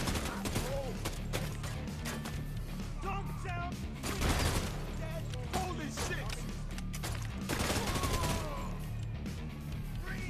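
Gunfire during a shootout in the open-world crime game Codename Crime-Vice, a dense barrage of rapid shots and crashing impacts layered under shouting voices, fairly quiet and continuous throughout.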